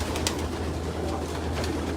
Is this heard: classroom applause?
no